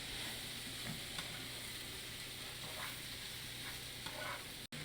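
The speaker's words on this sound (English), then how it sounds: "I've sauteed my mushrooms down inside my pancetta and my shallots" Mushrooms sautéing in a pan with pancetta and shallots give a steady, close sizzle with occasional stirring scrapes and one brief dropout near the end, no voices.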